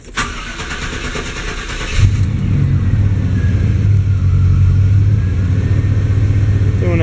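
A junk truck's engine cranks and catches after about two seconds, then settles into a steady, loud idle that continues to the end.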